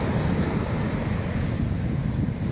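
Strong sea waves surge at a Zambales beach, a constant loud roar of surf mixed with heavy wind buffeting the microphone.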